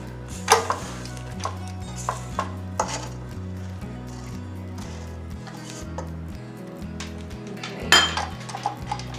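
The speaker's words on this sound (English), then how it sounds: "I'm going to give the bowl a scrape." A spatula scrapes the mixing bowl of fluffy, pale coconut cream cheese pound cake batter, giving a few close clinks and scuffs against the bowl over steady background music.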